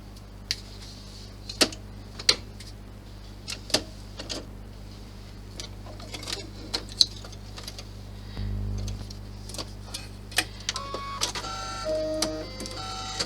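Computerized embroidery machine stitching the top and bottom vinyl layers of a Santa bag together, giving sparse, irregular ticks and clicks over a steady low hum, close and quiet, with a brief louder whir near the end.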